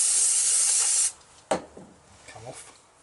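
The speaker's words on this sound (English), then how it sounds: "And back to the old carb spray" Carburetor cleaner sprays in a loud, steady hiss onto starter motor parts from a Yamaha Virago XV 535, cutting off after about a second, followed by quieter handling noises and a voice.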